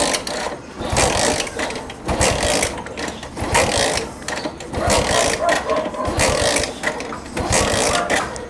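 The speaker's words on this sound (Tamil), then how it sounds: "இப்போ நம்ம ஆக்சிலேட்டர் கொடுக்காமல் நான் கிக் பண்ணுறேன், எவ்வளோ தூரம் போகுதுன்னு பாருங்கள்." A motorcycle engine is kick-started repeatedly with the throttle closed during a compression test, giving rhythmic mechanical churning bursts close by, with someone talking over most of it.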